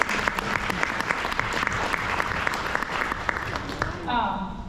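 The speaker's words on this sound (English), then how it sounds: "round of applause for" An audience at a Gathering of Champions event applauds in sustained, moderately loud clapping, with a voice speaking over it and a brief tonal sound near the end.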